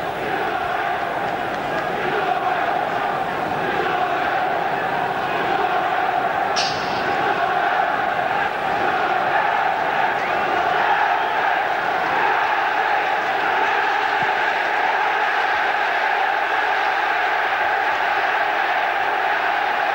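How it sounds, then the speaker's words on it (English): A large crowd at a Manchester United versus Tottenham Hotspur football match keeps up a steady chant of the club's name, a dense, even roar of voices filling the ground. "Great chant around the ground of United, United now"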